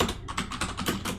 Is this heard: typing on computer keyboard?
yes